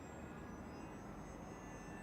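A small RC model airplane flying about 50 meters away makes a faint, steady motor drone that holds at a distance without change.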